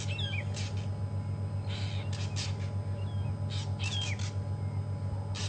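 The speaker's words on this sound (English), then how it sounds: "those little birds that are harassing them are fork-tailed drongos" Fork-tailed drongos harassing a Wahlberg's eagle on an African safari drive, sharp scattered squawks and chattering calls in short bursts over a steady engine-like hum, moderately distant.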